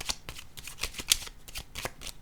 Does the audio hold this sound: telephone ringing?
no